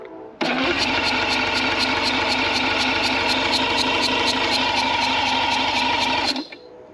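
A boat engine is cranked over to test its low pressure fuel pumps, giving a steady rapid rhythmic churning that runs loud and unbroken for about six seconds before cutting off.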